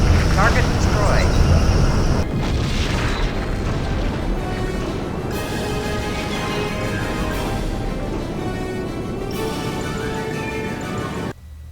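Starship weapons fire and explosions from the Star Trek Legacy video game, heavy booms and bursts with a sustained rumbling roar, several sharp onsets spaced across the stretch, loud and continuous.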